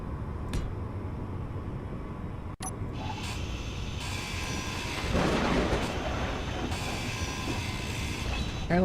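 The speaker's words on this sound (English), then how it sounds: "Apparently this storm's not got as much radiation in it, but it still makes thunder and lightning noises." Thunder from a storm in a video game, a low continuous rumble that builds and swells in the second half with a brief crack partway through, with no talking over it.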